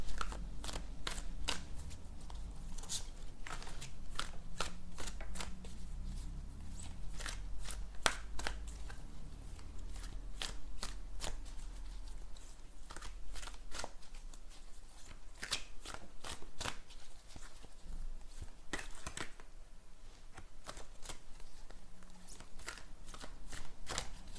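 Playing cards are shuffled by hand over and over, a close, steady run of crisp riffling clicks and soft flutters with no talking.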